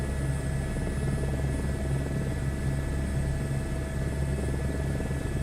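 An H125 helicopter in a flight simulator game, a steady droning rotor and turbine hum with a low pulsing beat, even and continuous with no talk.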